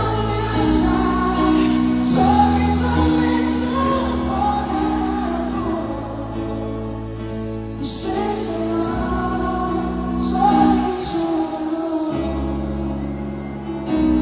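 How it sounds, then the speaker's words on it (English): A large Filipino concert crowd singing along to a song, a massed echoing choir of voices blended with the band's sustained music, loud and continuous. "I think that's my favorite part about hearing a crowd like this singing together."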